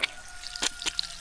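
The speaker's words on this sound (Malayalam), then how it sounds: "അവിടെ വെള്ളം ലീക്കാവുന്നു" Water leaking at a home drips in two or three distinct, close splashy drops, spaced irregularly over a faint steady background, with no talking.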